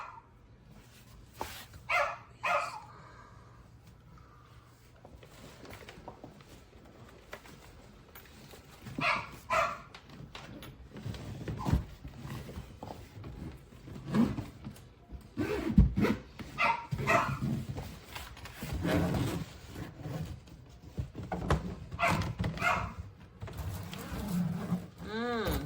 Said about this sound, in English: I apologize for our dog.